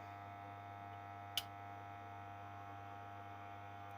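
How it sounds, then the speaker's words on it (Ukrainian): A 2500W power inverter under repair hums faintly and steadily after being switched on, a low constant electrical drone with one brief click partway through. "Зараз буду вмикати інвертора."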